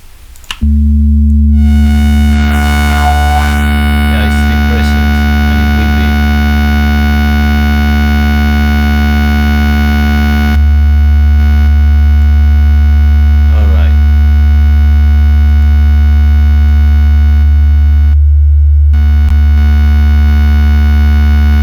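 A steady synthesizer sine wave tone from a Kilohearts wavetable and waveshaper setup, a loud sustained hum with stacked harmonics, interrupted briefly by short chirps and sweeps as settings change, then holding steady with a slight shift midway.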